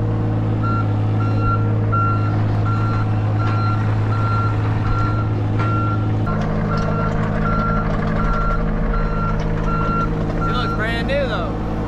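A truck at a drainage pipe installation job beeps in reverse, a steady series of evenly spaced electronic beeps over a rumbling diesel engine that shifts tone midway, with a squeal near the end.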